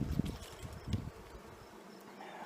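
Honeybees festooning inside a hive give a steady low buzz, with a few louder close passes near the start before it settles into a softer continuous hum.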